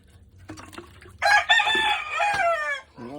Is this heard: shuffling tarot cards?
no